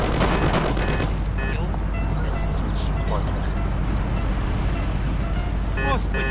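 Bursts of gunfire in the video game Mafia, a modded taxi-driver playthrough, crackle early and again near the end amid street and car noise, with a player's voice over the action.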